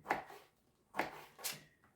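Three sharp knife chops through dried apricots on a cutting board, spaced unevenly across a couple of seconds, close and fairly quiet.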